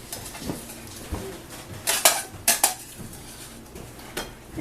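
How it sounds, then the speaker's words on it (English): Dishes and cutlery clatter as mashed potatoes are served onto plates for a hamburger gravy meal, with several sharp clinks of spoon on plate clustered in the middle and softer handling noises around them. "Do you want to dish me up just a bit of potatoes?"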